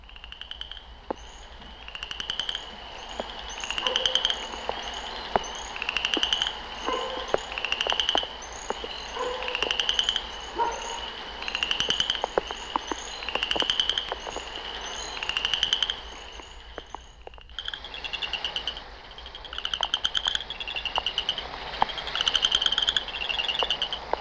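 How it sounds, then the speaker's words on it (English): Florida chorus frogs call in a slow, rasping series of clicks like a finger drawn over comb teeth, with several overlapping callers repeating steadily at close range and no voices. "The Florida chorus frog sounds like someone running their finger slowly over the teeth of a comb."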